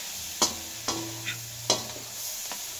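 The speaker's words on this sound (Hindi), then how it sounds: "हम उसको अच्छे से भून लेते हैं दो मिनट" Mixed vegetables for veg biryani fry quietly in a pan, with a few sharp spoon taps and scrapes spaced through the short stretch.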